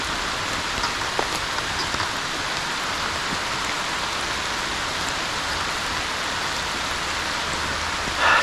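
Steady rain falls on a small creek where smallmouth bass are being fished, a dense even hiss of drops on water and surroundings with no talking.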